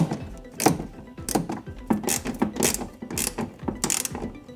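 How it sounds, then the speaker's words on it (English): A ratchet tightening bolts during brake vacuum pump replacement on a 2017 BMW i3, heard as repeated sharp clicking bursts in an irregular rhythm, close and clear, with no talking. "finish it with the ratchet"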